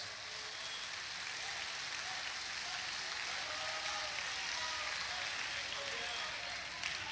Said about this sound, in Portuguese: Se as palmas for para glorificar Jesus, pode aplaudir a Jesus